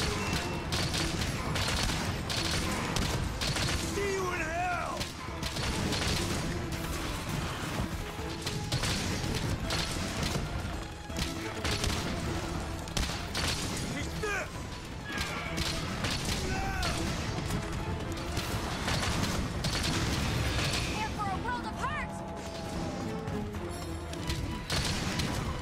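Rapid bowgun fire in Monster Hunter, fighting the monster Espinas, crashing and booming in dense volleys amid a loud, chaotic battle mix of impacts and effects, with faint voices underneath.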